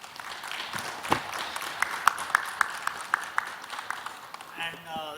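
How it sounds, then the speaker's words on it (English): Scattered applause from a conference audience in a room, a handful of sharp separate claps rather than a full ovation, moderately loud with a murmur of voices underneath. "give a big claps for ourselves and for the whole BFSI sector"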